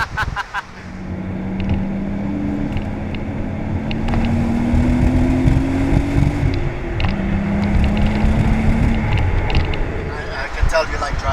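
A 1990 Nissan 300ZX cruising in sport mode, steady engine drone with gentle rising pitch and road and wind noise from inside the cabin, with people talking over it.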